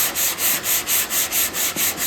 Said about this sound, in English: Sand at the top on that body line